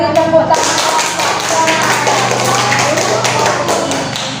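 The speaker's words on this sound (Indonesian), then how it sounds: "Ya, beri tepuk tangan." Classroom applause from students after group presentations, a sustained burst of dense clapping that fills the room for several seconds.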